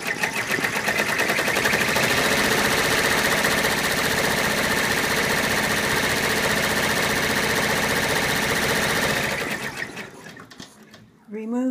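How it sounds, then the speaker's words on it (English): An embroidery machine stitches out a securing line through a hooped zippered-purse project, a loud, fast, steady mechanical chatter that runs unbroken for about nine seconds before stopping, followed by brief quiet handling. "we put the hoop back in the machine and stitch out that line to secure it"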